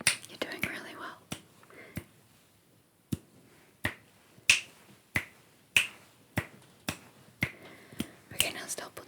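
Finger snaps for ASMR, about fifteen sharp, close snaps, scattered at first and then coming at a steady pace about every half second to second, with faint whispering between them.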